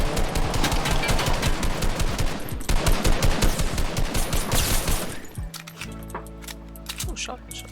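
Rapid bursts of automatic gunfire in the video game Fortnite, dense sustained rattling for about five seconds, then sparser shots under a droning in-game tone.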